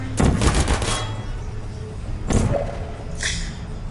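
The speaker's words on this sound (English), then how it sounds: "I'm gonna wait for these bullets." Turret gunfire in the video game Portal: a loud, dense rattling burst of rapid shots for about a second, then a short second burst, followed by a fainter metallic clatter.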